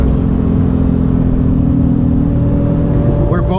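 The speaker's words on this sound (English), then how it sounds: "Let's get a little more acceleration" A Porsche 911 turbo accelerates on a road, its engine a steady loud low drone from inside the car, holding a constant rumble that barely changes.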